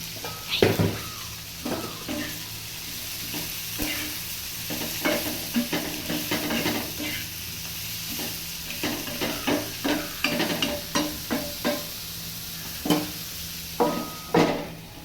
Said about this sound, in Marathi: हलवून घेत आहे